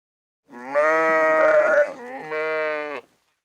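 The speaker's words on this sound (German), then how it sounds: "Dieses Geräusch nennt man auf Deutsch mähen oder blöken." Sheep bleat in two long, wavering calls close up, the first louder and rougher, the second steadier, with silence before and after.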